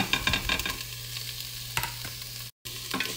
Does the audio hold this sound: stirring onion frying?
yes